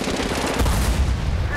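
Sustained gunfire in Medal of Honor Warfighter, a dense, loud, continuous barrage of rapid shots with booming low end and no gaps.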